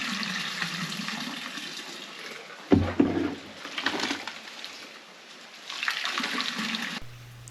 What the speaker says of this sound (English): we put that through the sieve and into the barrel as well